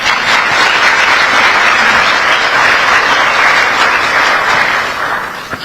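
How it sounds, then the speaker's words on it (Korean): Dense, sustained applause from a large crowd at a gathering in Korea fills the whole stretch, loud and even, tapering slightly at the end. "감사의 박수 한번 보내드리시죠"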